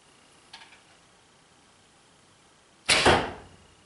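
An arrow loosed from a Ben Pearson Colt Model 960 bow at a 3D archery target, heard as a faint early tick and then one loud, sharp thwack of impact with a short decaying rattle.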